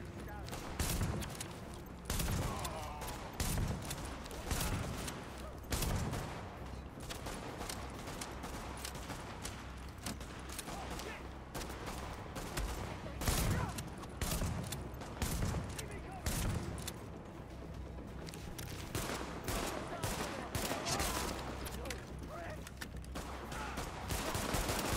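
Pistol gunfire from the video game Tom Clancy's The Division, rapid repeated shots in dense bursts over loud, busy game audio for the whole stretch.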